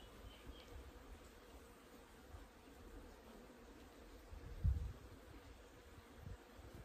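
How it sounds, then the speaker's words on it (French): Bees forage among countryside plants beside a flowing stream, making a faint, steady buzzing over a soft wash of running water, with one brief nearby thump partway through. "il y a les abeilles qui butinent et de l'autre côté, il y a mon ruisseau qui coule"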